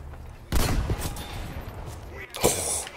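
Battlefield 5 gunfire on the Provence map, a loud burst of shots breaking in after a quiet moment, then a rattling mix of distant firing and a second sharp volley.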